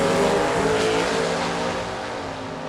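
Oldsmobile Achieva and Oldsmobile Calais drag racing side by side at a drag strip shootout, a loud, close, sustained engine roar that holds steady and eases off slightly toward the end, with no talking.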